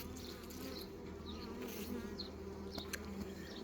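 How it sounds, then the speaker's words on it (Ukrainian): Dense, steady buzzing of many honey bees close by at a hive during queen introduction, a continuous drone with occasional higher whines of individual bees passing. "Краще ще, мабуть, струшувати бджолу"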